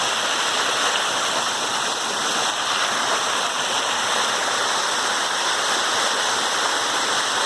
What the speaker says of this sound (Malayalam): അതിന് മുകളിലായിട്ടാണ് ഈ ഒരു വെള്ളച്ചാട്ടം